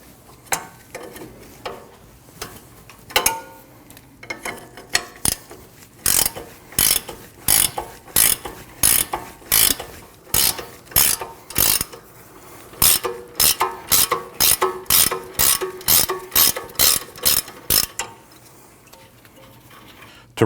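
Ratchet wrench loosening the 22mm lower ball joint nut on a Nissan NV2500 front suspension, with a long run of quick, sharp clicking bursts in close, steady rhythm and a few brief pauses.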